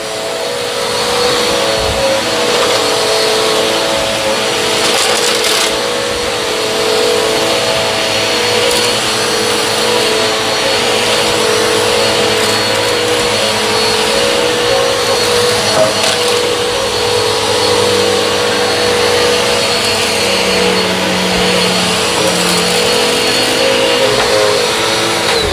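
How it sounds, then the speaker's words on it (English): A Dirt Devil vacuum cleaner runs continuously with a loud, steady motor whine and airflow roar, alone without talk throughout. "this is an absolute excuse of a vacuum cleaner."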